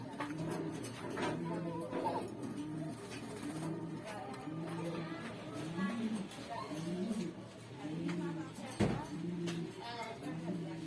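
Pigeons of the Beauty breed, including a white pair, coo in a loft on a Gazipur farm. The soft cooing repeats rhythmically throughout, close by, and someone talks over it.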